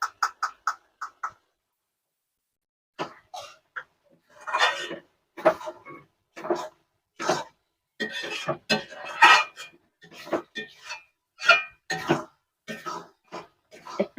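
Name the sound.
stirring garam masala into okra curry in a pan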